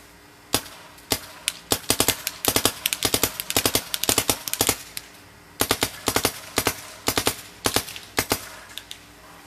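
A BT TM-15 paintball marker fires in three-shot burst mode, producing sharp, loud pops in quick clusters of three, repeated in irregular bursts with brief pauses between them.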